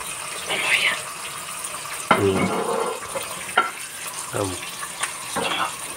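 Black nightshade leaves are washed by hand with salt and water, with wet splashes, rubbing and sloshing in bursts alongside a steady background hiss.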